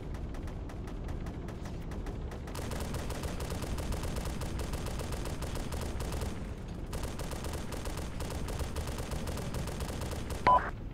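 Sustained bursts of gunfire crackle continuously through a military operation, dense automatic and rifle fire rolling on with brief lulls and one sharp louder crack near the end.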